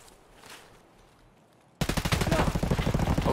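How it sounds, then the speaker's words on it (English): Gunshots in Escape from Tarkov: after a quiet stretch, a sudden loud burst of rapid automatic fire rattles on steadily to the end. "Is that you shooting?"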